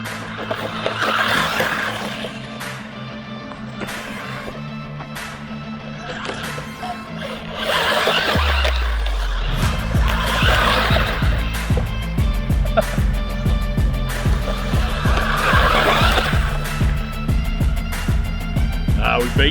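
A 1/16 scale SG1610 Pinecone RC drift truck runs with a continuous high electric-motor whine and scuffing tire skids, growing louder and rougher about halfway through as it drifts.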